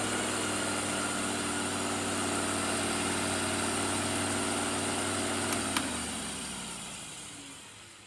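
A powerful greenhouse blower fan engine runs steadily at lowered revs, a loud droning hum with a clear harmonic whine, then winds down and fades after a small click near the end; no talking.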